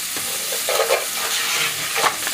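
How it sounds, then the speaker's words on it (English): Steady, close sizzling of seasoned ground beef frying in a pan for Puerto Rican picadillo, with brief scraping stirs rising above the crackle. "It's sizzling up. Nice sauteing."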